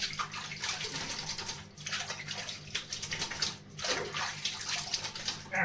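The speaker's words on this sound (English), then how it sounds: "Let's rinse it off." Water from a tap splashes and gurgles steadily at close range while a razor is rinsed after shaving, with no voices.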